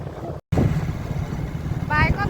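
Riding a motorcycle: a steady low engine rumble mixed with heavy wind buffeting on the microphone, with a brief dropout early on and voices talking over the noise near the end.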